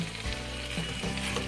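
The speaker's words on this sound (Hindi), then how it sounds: "सब्जी को चेक करेंगे और इसे मिक्स कर देंगे" A pan of potato, aubergine and pea curry being stirred, with a steady low sizzle and a few soft scraping strokes, close and alone with no voices.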